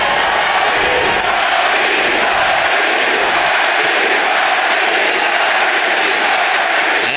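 A packed boxing arena roars as Manny Pacquiao walks in before his rematch with Tim Bradley, a loud, unbroken wall of crowd cheering and shouting that holds steady throughout.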